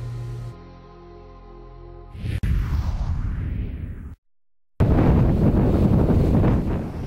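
Wind gusts across the open Oklahoma plains near oil country, a loud steady broadband rush buffeting the microphone, briefly cutting out before returning just as strong, with no voices.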